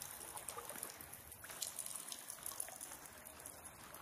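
A waterfall in a video game gives a steady, faint wash of rushing and splashing water with no pauses.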